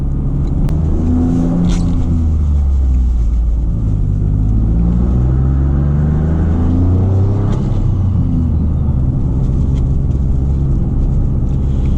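A 2023 Toyota GR Corolla engine hums and rumbles steadily from inside the cabin, with rising and falling engine tones as the car accelerates through gears, loud and continuous with no talking.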